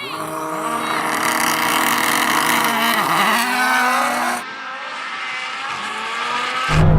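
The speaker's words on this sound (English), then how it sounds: "God, that rallycross car's good." A rallycross car engine roars loud and close, revving hard and shifting pitch as it races, with a sharp cut in the sound partway through and no talk over it.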